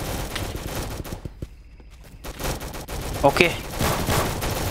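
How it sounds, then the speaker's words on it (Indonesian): Rapid gunfire from a Roblox first-person shooter game, bursts of shots crackling through the scene with a short quieter gap, while someone talks over the action. "Kita tembak saja orang-orang yang tidak tahu kalau ada musuh di belakangnya"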